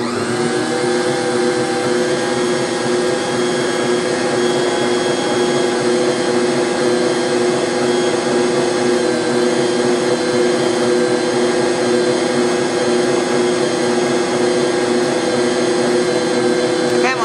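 A stand mixer kneads savory pumpkin bread dough in a steady, loud motor drone that runs without a break from start to finish, with a faint whine riding on top.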